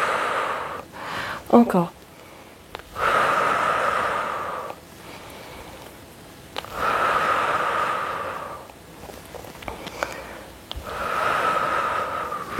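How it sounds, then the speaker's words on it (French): Repeated slow breaths during a strength-training routine, long airy inhales and exhales in steady cycles of a few seconds, close to the microphone. A voice speaks briefly near the start. "Inspire et souffle."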